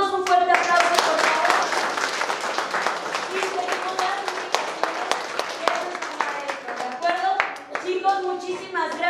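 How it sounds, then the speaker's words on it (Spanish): Students in a school give a round of applause, a dense burst of many hands clapping for several seconds, with children's voices calling out over and after it. "Nos damos un fuerte aplauso, por favor."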